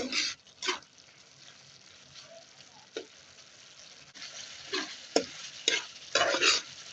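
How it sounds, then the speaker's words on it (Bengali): Spice paste sizzling in a pan for a Bengali catfish (shing fish) bhuna curry, stirred with repeated scraping strokes over a soft frying hiss, louder clustered stirs near the end, no talking. "আমার মশলাটা কষানো হচ্ছে, আমি মশলাটা ভালোভাবে কষিয়ে নেব।"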